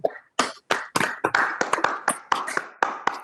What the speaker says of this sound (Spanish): Un aplauso que quede grabado.